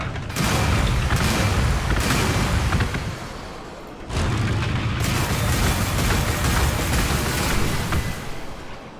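Units open fire on a tank in Warhammer 40,000: Gladius, a dense, roaring stretch of booming gunfire and explosions that briefly dips, then surges again, loud and continuous without talk.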